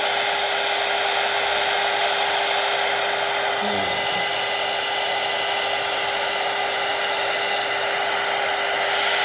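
A heat embossing tool blows hot air in a steady, loud, close whoosh that runs unbroken through the whole stretch, with no talking.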